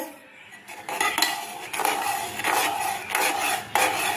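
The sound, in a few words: stirring food in ghee by hand in a pan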